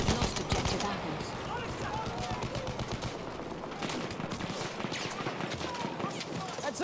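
Rapid machine-gun fire crackles through a Battlefield 1 battle in dense bursts of sharp shots, close and loud, with voices shouting over the din.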